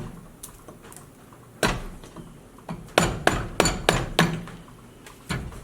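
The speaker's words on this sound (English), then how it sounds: "So I'll stick with this big gouge." Mallet blows driving a big carving gouge into cedar wood, a few scattered sharp knocks, then a quick cluster of hard strikes, close and loud with no voices.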